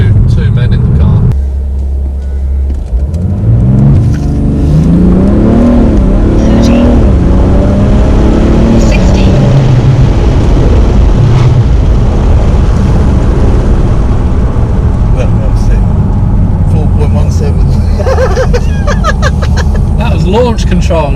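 A 2017 BMW 335d xDrive engine roars hard from a standstill using launch control, revs climbing through several gear changes in a loud sustained acceleration, with people talking inside.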